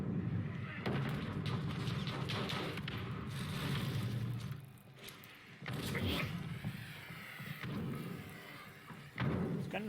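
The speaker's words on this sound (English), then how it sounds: "There's gunfire from over here." Gunfire and heavy thuds in a Call of Duty: Modern Warfare multiplayer match, coming as bursts of booming shots and impacts spread across the clip, with players talking over the game sounds.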